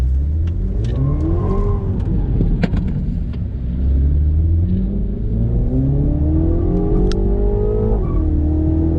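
A 231 hp Mini Cooper S JCW accelerating hard, its engine note climbing through rising revs with a gear shift and a second climb, loud and close with no talk.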